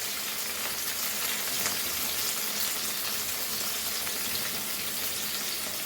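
Okra sautéing in a pan for a traditional Goan dish, a steady, even sizzle with a bright hissing crackle that holds at constant loudness throughout, no voices.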